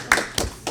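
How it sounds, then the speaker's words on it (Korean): A church congregation gives a short burst of hand clapping, three quick separate claps heard close and clear within under a second. "우리 한번 박수 한번 하겠습니다."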